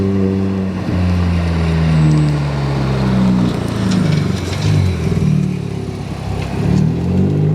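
Car engines rev at a Westerschelde waterside spot in the Netherlands, a loud droning engine tone whose pitch rises and falls in repeated surges, close by and with no talking.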